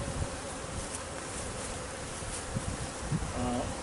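Honeybees swarm around an opened hive during a large removal, a steady close buzzing drone filling the air, with a few louder individual bees passing nearby and no speech.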